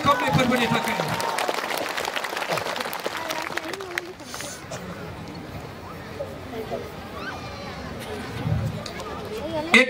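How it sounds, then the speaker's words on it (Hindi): A church congregation claps loudly and steadily together at a worship service, a dense wash of hands that swells at the start and tapers off, with crowd voices mixed in. "ताली बजाएं जोर से प्रभु के लिए।"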